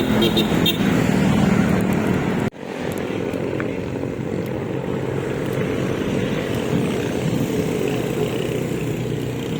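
Vehicles passing on a highway give a continuous roar of traffic with engine drone, briefly dropping out for a moment before the steady rumble resumes.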